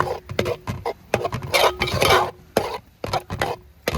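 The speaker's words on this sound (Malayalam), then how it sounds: "പച്ചിപ്പ് മാറുന്നിടം വരെ ഒന്ന് ഇളക്കി കൊടുക്കാം" Beetroot is stirred in a pan with busy, close scraping and clattering of a utensil against metal, irregular strokes over a low sizzle, with no voices.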